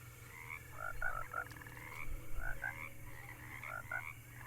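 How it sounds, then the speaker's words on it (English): Toad croaking in the Alone in the Dark video game, a steady series of short, paired croaks repeating rhythmically over a low, quiet ambient hum, with no talk. "Okay, we got a frog."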